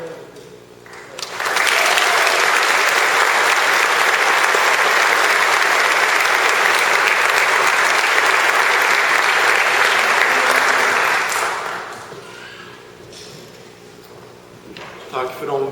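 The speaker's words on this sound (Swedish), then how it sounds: "redan innan de börjar spela, en stor applåd." Loud audience applause in the Admiralty Church in Karlskrona at a naval school graduation ceremony, swelling quickly into dense sustained clapping for about ten seconds, then fading, with brief talk before and after.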